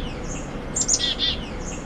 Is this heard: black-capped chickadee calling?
yes